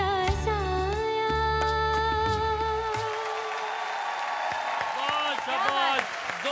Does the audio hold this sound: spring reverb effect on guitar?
no